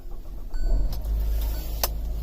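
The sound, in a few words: 2019 Hyundai Tucson engine starting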